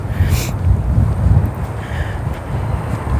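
Wind blowing outdoors, a loud steady low rumble buffeting the microphone for the whole stretch with gusty swells, with a faint brief higher hiss early on.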